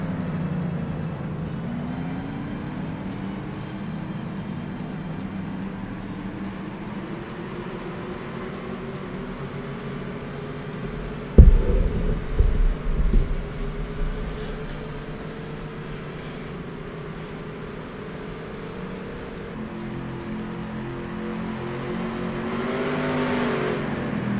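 A pace car drives around a Cleveland Airport Grand Prix circuit in a racing game, its engine droning steadily with rising and falling revs and a brief louder clatter midway.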